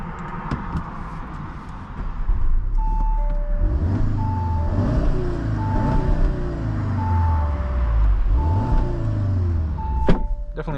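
A 2023 Audi TTS engine revs repeatedly up against the rev limiter in quick rising and falling bursts, loud and close from inside the car, with a steady electronic chime ticking along throughout.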